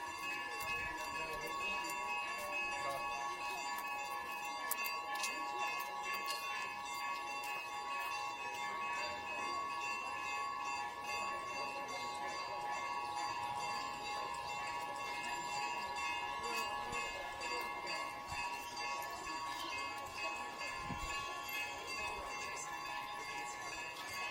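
A bell on a Kathmandu street rings continuously, its sustained metallic tones layered with repeated strikes over a busy street background for the whole stretch.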